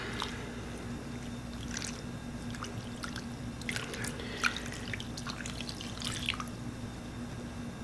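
Hot water heated to about 120–130°F poured over cocoa pudding cake batter, soft trickling and splashing with faint drips and squishes, quiet and close over a low background hum.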